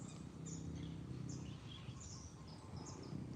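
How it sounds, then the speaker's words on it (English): Birds chirping and singing faintly in a park, scattered high tweets over a low outdoor rumble, distant and soft, no talking. "Hearing the birds in the background."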